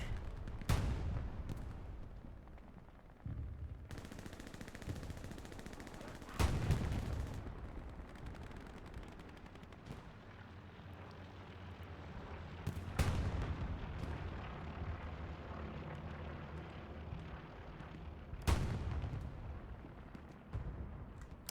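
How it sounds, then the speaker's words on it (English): Artillery shells land nearby in the World War II shooter Hell Let Loose, with heavy booms every few seconds that each roll into a long, low rumble under a constant battlefield drone. "Artillery rounds begin to fall near."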